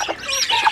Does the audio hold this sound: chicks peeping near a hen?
yes